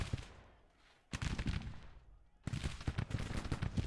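Musket volleys crackle and rumble in a Civil War infantry video game with Confederate troops flanking, dense overlapping shots coming in two heavy bursts, moderately distant and continuous, with faint speech mixed in.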